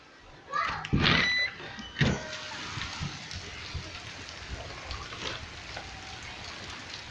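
Heavy afternoon rainstorm in Colorado Springs, with water flooding a front yard, makes a steady hiss of rainfall. A few louder bumps sound near the start, and children's voices are heard over the rain.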